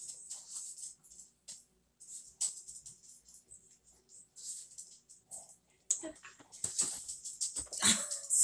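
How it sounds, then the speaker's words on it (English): A dog makes faint, scattered whimpers, yips and clicking movement noises close by, with brief bursts and quiet gaps, growing busier and louder toward the end. "that was a dog stomping all over us."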